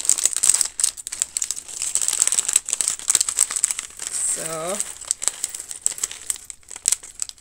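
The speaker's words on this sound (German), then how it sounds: "Achtung, es raschelt, ich mache die Tüten auf." Plastic bags from a Wange brick building set crackle and crinkle up close as they are torn open, with busy irregular rustling throughout and a brief spoken word partway through.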